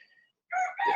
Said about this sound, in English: my rooster. Wake up! he thinks we're always asleep.